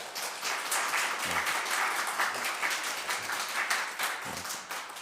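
A church congregation at a Sunday worship service claps to welcome a new member, a steady, moderately loud round of applause with a few low thumps mixed in and no speech.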